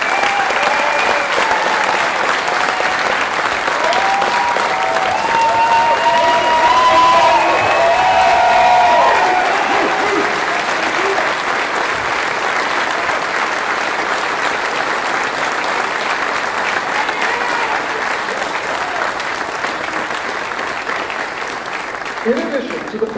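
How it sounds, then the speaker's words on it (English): Sustained crowd applause with scattered cheers at an awards ceremony for the Best CBRN Warrior competition, steady and loud for over twenty seconds while a voice or two briefly rises over it. "Let us give a round of applause to the 2025 Best CBRN Warriors"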